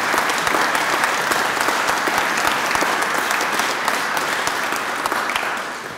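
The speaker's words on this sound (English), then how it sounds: "So that's a warm round of applause." Warm applause from a conference audience at a social enterprise event fills the room, dense and steady, and tapers slightly at the end.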